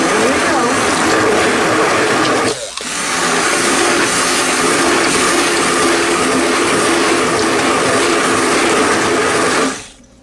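Electric mixer whirring steadily through pumpkin pie filling in a home kitchen, loud and close, with a brief dip near the start before running on and cutting off at the end.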